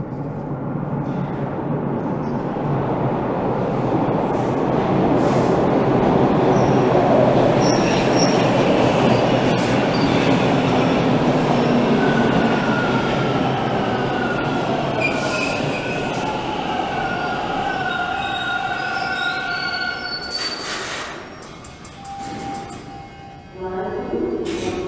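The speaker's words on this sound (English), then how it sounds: "As a westbound train rolls in." A westbound train rumbles steadily nearby in freezing weather in Toronto's West Side, with metallic screeching from the wheels and some high squeals building as it rolls in, then eases off near the end.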